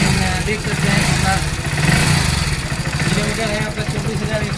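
A new Hero Splendor Plus BS6 motorcycle idling with an odd noise, a steady close engine chug with a rattly, uneven undertone, with people talking over it.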